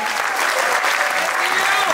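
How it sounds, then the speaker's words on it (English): A full audience applauds at an award ceremony for a top-ranked independent distributor, a loud and sustained wash of many hands clapping at an even level with no breaks, close and filling the room. "Big round of applause, ladies and gentlemen."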